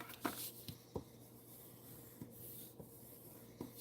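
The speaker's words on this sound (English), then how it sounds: "So let's fold and burnish this." Cardstock being folded and burnished by hand, with a few soft scraping rubs and light taps spaced out over a quiet background.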